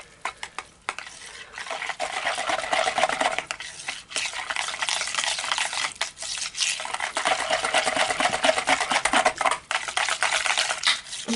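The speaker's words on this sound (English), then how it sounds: "There's my whisk. I'm going to whisk this in really quick." A whisk briskly stirs colorant into a rose and green tea soap mixture, a steady scraping, swishing rhythm against the bowl that runs nearly continuously with a few brief pauses, close up and with no talking.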